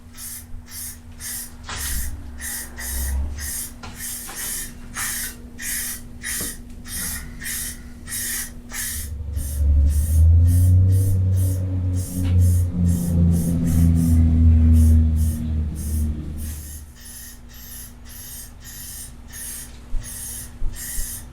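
Spray primer hisses onto a snowmobile trailer frame in short repeated bursts, near and fairly loud, with a deeper steady hiss and rumble building through the middle before the sputtering bursts resume.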